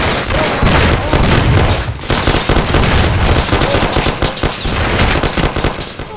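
Gunfire in the video game Mafia: The City of Lost Heaven: loud, dense bursts of automatic and rapid shots overlapping without pause, a continuous shootout close up, with faint shouted voices mixed in.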